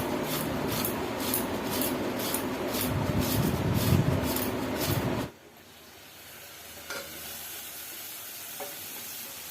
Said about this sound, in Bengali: আলু বেগুনও ভালো ভাজা হয়ে গিয়েছে